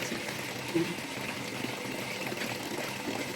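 Water poured off rice being washed for Jamaican rice and peas, a steady trickling, splashing stream close by that runs without a break for a few seconds.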